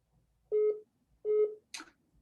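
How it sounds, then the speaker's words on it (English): Electronic phone tones from a call coming in on another line during a meeting, heard as two short steady beeps followed by a brief higher chirp, clean and isolated. "My phone's doing something weird. And I've got Alderman Simmons on the other line"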